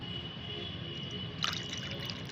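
Plain water poured into tea-leaf water to make plant fertilizer gives a soft, steady trickle with a few brighter drips and splashes near the end, close and quiet.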